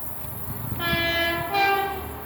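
A Class 166 diesel train at Starcross sounds its horn in two tones over a steady outdoor rumble, the horn moderately distant and sustained across most of the stretch, with no speech.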